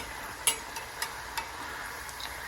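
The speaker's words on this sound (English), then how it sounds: "I'm going to dry them off and see if I can fry them. So they are frying" Faint, steady frying hiss of lotus root frying in oil, with a few soft clicks and pops, quiet and close, no voices.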